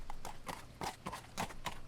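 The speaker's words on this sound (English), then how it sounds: "I can hardly hear my horse's hooves scuffling against the dead, dry plain." Horse hooves clopping over a dead, dry plain in a video game, a steady near, moderately loud rhythm of about seven distinct hoof strikes with no talk.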